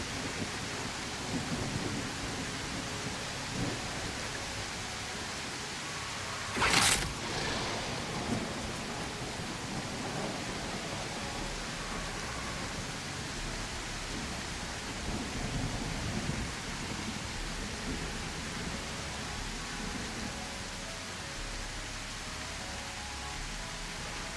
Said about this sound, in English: a storm was casted down upon the island. The torrential downpour not only obscured my view of the body